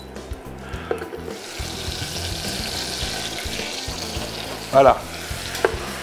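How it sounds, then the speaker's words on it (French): Butter melts over heat in a pan for a roux with a steady, close frying hiss and crackle, a couple of brief louder clatters from the pan, and a short spoken word at the end. "On laisse fondre le beurre sans qu'il soit trop agressé."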